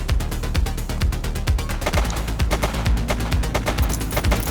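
Rapid, dense gunfire from a suspect shooting in The Precinct, a police video game, with sharp shots in quick bursts, loud and close, continuing steadily throughout with no talk.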